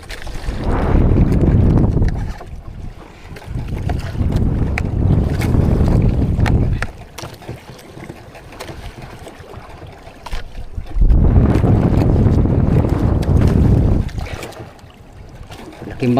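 A large wooden outrigger boat from General Santos, its engine droning and rumbling loudly in long surges with wind buffeting the microphone, dropping to a quieter lull in the middle before roaring up again.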